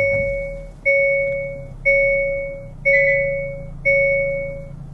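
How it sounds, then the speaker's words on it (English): Start-up chime from a 2023 Hyundai Tucson's push-button ignition: a clear two-tone electronic chime repeats five times at roughly one-second intervals, steady and close inside the cabin, with a faint low hum beneath. "Now start it up, put your foot on the brake,"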